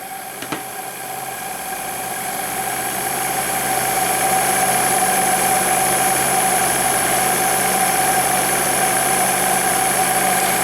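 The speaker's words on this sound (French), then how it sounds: "comme on l'entend, avec un moteur qui fonctionne à vitesse raisonnable" An engine runs steadily at a moderate speed, with a constant humming drone and a faint click near the start.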